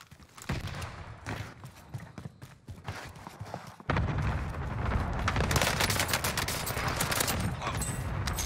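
Rapid automatic gunfire in a Call of Duty Rebirth Island battle royale match, with bursts of shots in the first half and then a denser, louder, continuous barrage of weapon fire and impacts.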